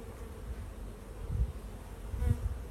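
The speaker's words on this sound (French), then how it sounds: "On va secouer les abeilles" Honeybees buzz steadily around a hive as a frame is lifted out, a low droning hum with a couple of louder close passes, no voices.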